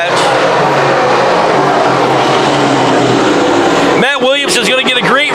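Modified race cars at a speedway roar loudly at full throttle through the turn, a sustained dense engine wash that gives way to sharp rising and falling pass-by whines as cars sweep close.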